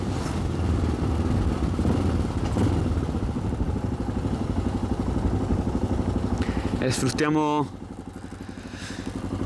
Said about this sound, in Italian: è una moto a carburatori